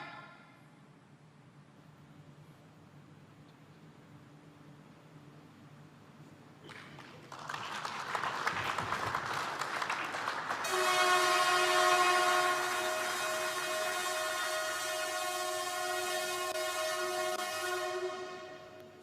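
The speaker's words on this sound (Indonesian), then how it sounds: "masinis dari Indonesia dan China masuk ke dalam kereta cepat dan menjalankannya perlahan" Indonesia-China high-speed train running slowly on rails during a dynamic test run: a steady mechanical rumble swells, then a loud, sustained multi-tone horn sounds for several seconds before cutting off.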